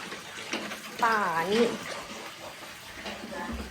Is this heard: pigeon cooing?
no